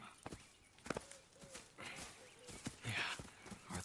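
Horses walk with soft, irregular hoof clops inside the Red Dead Redemption 2 game world. The clops sit under a bed of ambient sound and voices, and one brief breathy snort is heard.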